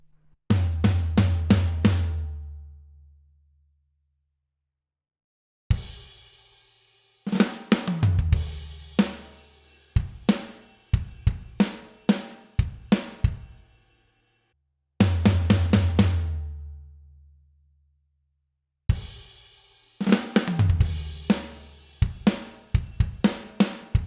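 A drum kit plays a groove in short bursts of hits separated by a bar of complete silence, repeating the pattern, close and punchy.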